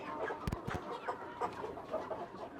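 Chickens on a small-scale poultry farm, soft scattered clucks and short calls repeating at a low level, with a couple of sharper noises near the start and no talk.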